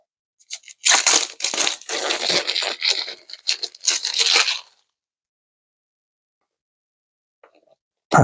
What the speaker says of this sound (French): Alors j'essaye de déballer ça sans abîmer la boîte.